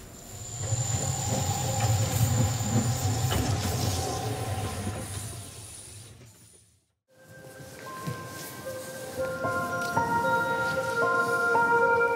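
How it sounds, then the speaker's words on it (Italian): A Centovalli railway train moves through Locarno Muralto station, its rumble and rolling wheels giving way after a short gap to high sustained wheel squeals and tonal screeching, fairly close. "Arrivano e partono presto, il mattino, i treni alla stazione di Locarno Muralto"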